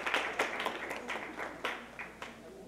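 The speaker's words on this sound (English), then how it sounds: "Please give yourselves a big round of applause." Seminar participants at Saint Thomas More clap for a few seconds, a small group producing sparse, uneven claps that fade gradually, quiet and without talk.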